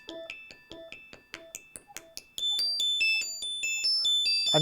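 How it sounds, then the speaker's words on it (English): Roland SH-2 Plug-Out synthesizer playing a bell-like, tinkly arpeggio from a single oscillator: rapid bright pinging notes stepping up and down in an even rhythm, clear and upfront, growing denser and louder toward the end. "bell-like arpeggiator, which is just using this single oscillator 2"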